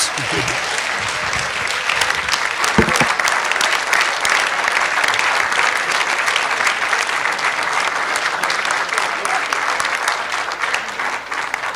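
Sustained applause fills a hall at an Asia Society Policy Institute gathering, dense even clapping from many hands holding a constant level, with a brief murmur of voices early on.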